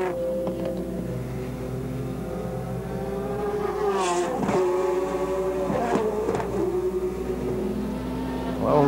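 GT race cars racing at Curitiba, Brazil, engines droning and rising in pitch as they accelerate, heard at a distance with a few sharp passes and a commentator talking over them.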